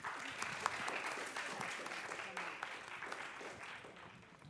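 Sustained applause from an audience at a public management conference, steady clapping filling the space for several seconds with a slight crowd murmur underneath.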